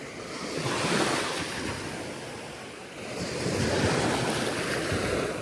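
Black Sea surf washing onto a beach at Kurortne in Odesa region, a steady loud wash of breaking waves swelling and easing in two broad surges, with wind buffeting the microphone and no one speaking.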